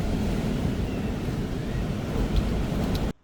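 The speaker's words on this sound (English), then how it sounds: "The waves are splashing from all the way out there and hitting the window." Storm waves from a typhoon crash and splash against a window on Camotes Island, a dense, continuous roar of surging water and wind with heavier bursts near the end before it cuts off abruptly.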